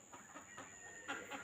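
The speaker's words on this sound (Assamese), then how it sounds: "এয়া মুৰ্গী" Chickens cluck softly and faintly beside a newly made field in a rural village in the morning, a few scattered calls at a distance.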